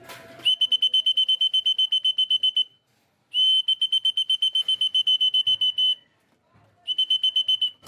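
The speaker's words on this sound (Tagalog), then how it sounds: "Tawagin na natin yan para pagka narinig nila yung pito, alam na nila nakakain na sila." A whistle blown to call homing pigeons to feed sounds in three bursts of rapid, evenly spaced shrill trills, loud and close, separated by short pauses.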